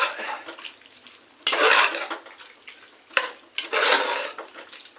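A lid is set onto a pot of simmering beef curry, giving two bright metallic clattering bursts a couple of seconds apart over a quiet kitchen background, with no talking.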